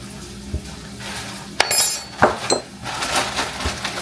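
Seasoning with garlic powder is mixed in a bowl for honey chicken, a spoon clinking and scraping against the bowl in a few bright, close knocks followed by a softer stir.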